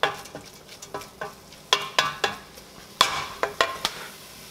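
Ground turkey browns in a pan for chili, giving a steady sizzle broken by sharp clicks and scrapes from a spoon or spatula stirring the meat, close and fairly loud with no talking.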